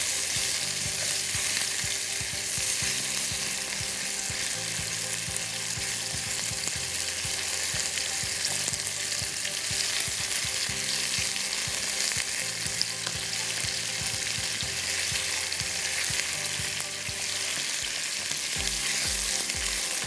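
Chicken pieces for orange chicken sizzle steadily in a pan of oil, a continuous close frying hiss with occasional stirring and turning sounds, and no voices.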